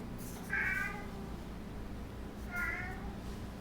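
Two cats call to each other to play with two distinct meows about two seconds apart, close and moderately loud over a low steady hum.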